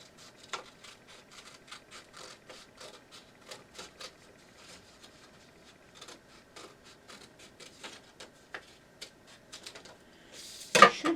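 Scissors cut a paper letter D shape in a quiet room, making a steady run of small crisp snips close by, ending in a louder rustle of paper being handled.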